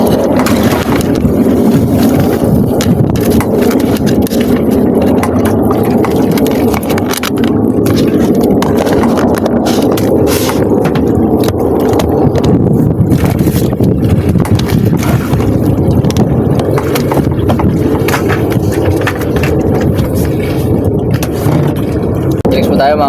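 A boat pounds through choppy waves while strong wind roars across the microphone, a loud continuous wash of water and engine noise with voices speaking over it.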